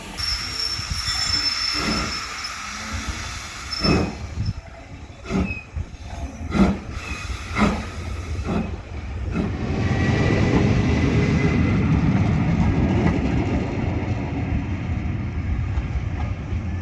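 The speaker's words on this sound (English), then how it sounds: "So many people travelling on the steam railway today." A heritage steam train on a busy railway at Whitby rumbles past, with loud rolling wheel noise and rhythmic clacks building into a steady close roar of carriages, and no talking.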